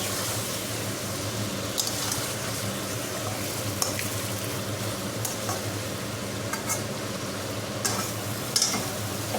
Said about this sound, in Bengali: এই দেখুন চিকেনটাও অনেকটা ভাজা ভাজা হয়ে এসেছে